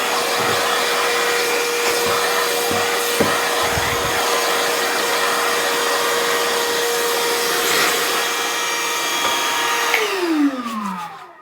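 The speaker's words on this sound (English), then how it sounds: "Clean it up with my vacuum cleaner, so absolutely do not worry." A vacuum cleaner drones steadily and loudly at close range with a constant whine, then winds down as it is switched off near the end.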